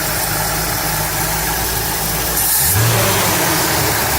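A car engine idles steadily with its carburetor choke fully open, a continuous close mechanical hum with a slight shift in tone partway through.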